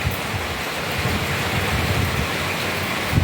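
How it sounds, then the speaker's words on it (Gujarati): Rain falls as a steady, dense broadband hiss that stays even and fairly loud, with a low rumble underneath and no voices. "અહીંયા જો વરસાદ ચાલુ થઈ ગયો"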